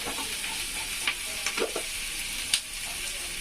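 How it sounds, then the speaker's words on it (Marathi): Green chillies roasting in a pan with a pinch of cumin seeds, giving a faint steady sizzle with a few soft pops and crackles scattered through it, and no talking. "मस्त मिरच्या भाजायच्या आणि याच्यावर टाकणार मी थोडस जिरा"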